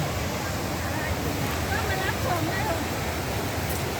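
A steady roar of rushing water fills the whole clip, dense and constant, like a waterfall heard from nearby: Pang Sawan Waterfall in Uthai Thani, Thailand.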